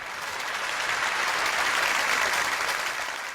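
Steady audience applause at a live old-song concert honoring a tabla player, a dense sustained wash of clapping holding even loudness for several seconds with no voices over it.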